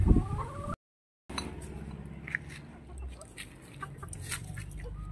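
A laying hen on a backyard farm clucks in short, scattered calls over a low rustling background, with a brief dropout early on.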